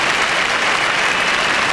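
A large arena crowd applauds a men's figure skating original program at the 1992 Albertville Olympics, a loud, dense, steady wash of clapping that carries through the whole clip.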